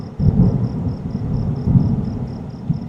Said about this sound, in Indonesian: tapi petir bunyi